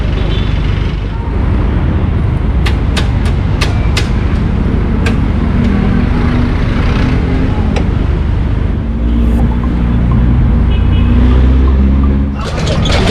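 Street traffic of tricycles, motorcycles and jeeps on Nicolas Zamora Street, a loud continuous engine rumble and road roar passing close by, with brief higher whines from small motors and a heavier vehicle swelling near the end.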